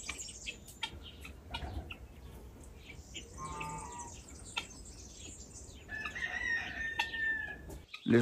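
Chickens and a rooster on a farm, with a Pekin hen among them, cluck and call at moderate distance, with a crow rising near the end over steady outdoor background noise.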